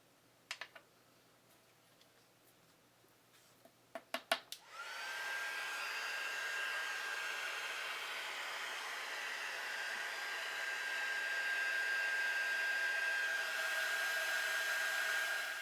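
A handheld heat tool blows a steady, loud whooshing hum for about eleven seconds while setting embossing powder on cardstock, following a few faint clicks and taps.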